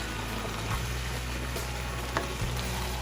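Peach pulp cooking down with sugar in a pan gives a steady, close sizzling bubble, with faint scrapes of stirring.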